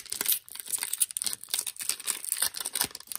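A 1991 Fleer Ultra baseball card pack is torn open by hand, with close, bright crinkling and ripping of foil wrapper in uneven bursts throughout.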